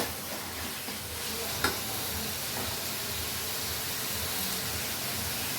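Tomatoes sautéing for a fish curry in a pan, a steady soft sizzle with faint stirring scrapes and one sharp tap of the utensil, close and quiet, with no talking.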